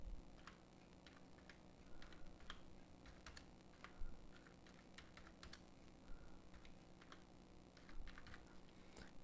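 Soft, quiet clicking of a computer keyboard as an online form is typed in, with irregular keystrokes scattered throughout at a low level.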